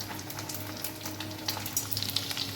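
Chhana koftas fry lightly in hot oil for a Durga Puja kofta dish, giving a steady soft sizzle with small crackling pops that grow a little busier toward the end, close by with no talk.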